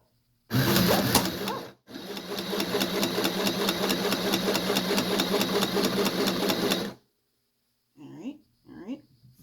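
A sewing machine stitching a child's face mask runs in a steady rapid mechanical whir for several seconds after a short first burst, then stops and a voice speaks briefly.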